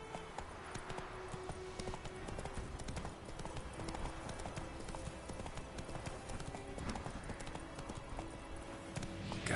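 Hooves of the horse Roach in the video game Witcher 3 clip-clop in a steady, quiet trotting rhythm throughout.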